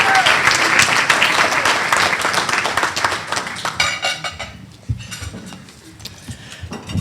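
An audience at a community leadership awards event claps loudly and densely for a county commissioner, the applause thinning into scattered individual claps and fading toward quiet by the end.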